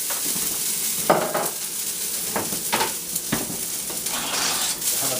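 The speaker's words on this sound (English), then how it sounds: "oil it up a little bit, get some of this green onion going" Green onion frying in a lightly oiled pan: a steady, close sizzle with a few soft stirring scrapes and clinks scattered through it.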